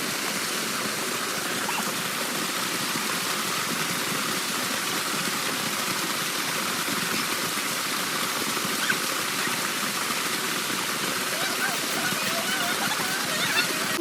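Continuous hiss and rush of a waterfall and flowing stream in a village setting, steady and moderately distant, with people talking faintly beneath the water noise.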